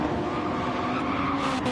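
A race car in a JGTC racing video game brakes into a corner, its engine roar and a faint tire scrub holding steady and loud through the brief moment, with no talking.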